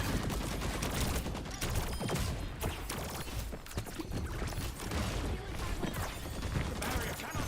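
Rapid rocket fire and explosions in the Overwatch video game, a dense, continuous barrage of bursts and crashes at steady loudness for several seconds.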